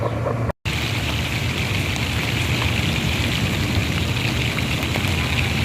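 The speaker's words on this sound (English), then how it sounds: "We're getting some lightning strikes, getting some rain coming in." Steady rain falling outdoors at a portable field station as a thunderstorm moves in, a continuous even hiss of drops with a low background rumble, no voices, after a brief cut near the start.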